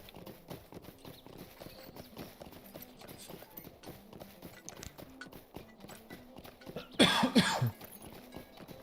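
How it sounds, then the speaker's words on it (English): A single sharp cough breaks in near the end, loud and close, over steady clip-clopping horse hoofbeats from the game Lord of the Rings Online that run through the whole stretch. "I've been coughing a lot today."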